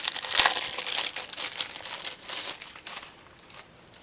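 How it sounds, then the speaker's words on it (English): Plastic wrapping crinkles and crackles in close, irregular bursts as a coaster mould for resin is pulled free, the rustling thinning out toward the end. "maybe if I take it out of the plastic"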